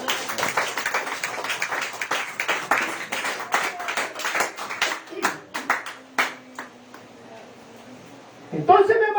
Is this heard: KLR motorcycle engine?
no